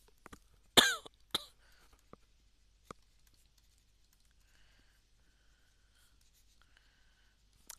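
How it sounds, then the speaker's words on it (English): Handwriting during an O Level enzymes lesson, with a few sharp scratchy pen or marker strokes early on, then sparse faint taps and scratches against a near-silent background. "Let's write activity so that it would be more clear."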